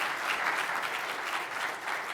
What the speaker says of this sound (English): I think we need a round of applause for them.